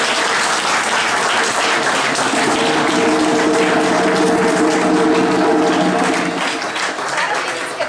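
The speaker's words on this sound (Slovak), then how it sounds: "vás poprosím možno o takú podporu vašim potleskom" Steady, loud audience applause at a book launch event fills the room with dense clapping throughout, holding level for several seconds with a faint tonal hum beneath.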